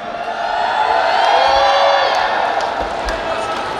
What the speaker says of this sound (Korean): 미션 임파서블 데드레코너 팀에게 다시 한번 뜨거운 박수를 부탁을 드리겠습니다.